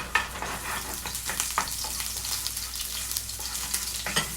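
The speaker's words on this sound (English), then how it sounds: "Add some oil. Let that heat up and warm. Add the green onions in." Green onions sizzle in hot oil for kimchi fried rice, a steady close frying hiss with scattered sharper crackles and a few stirring clicks throughout, no talk.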